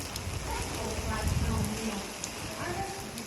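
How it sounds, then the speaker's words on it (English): Rain pours in a steady, even hiss near Fansipan in Sa Pa, Vietnam, with a soft, indistinct murmur underneath. "You can hear the rain pouring."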